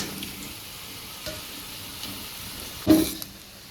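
Potatoes fry in hot oil with a quiet, continuous sizzle, and near the end a short louder burst of crackling sounds as they are stirred or lifted.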